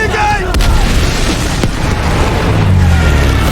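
An ammunition truck explodes in a battle scene: heavy booming blasts over a constant roar, with a couple of sharp cracks and low rumbling that fills the whole stretch.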